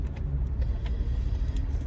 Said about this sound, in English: Now I'm sitting in this traffic going home.